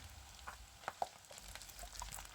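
Murukku dough spirals fry in hot oil over a medium flame, giving a faint, steady sizzle with a few soft pops and crackles.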